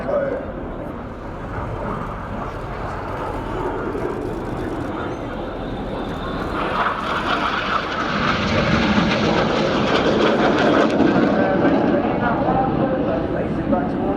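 Red Arrows Hawk jets at an air show crossing and passing, a rushing engine roar that builds louder midway and stays strong, with a commentator talking throughout.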